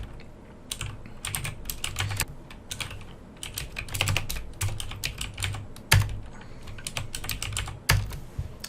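Rapid clicking of computer keyboard keys as numbers and formulas are entered into an Excel spreadsheet, with uneven bursts of keystrokes and short pauses, close and clear with no talking.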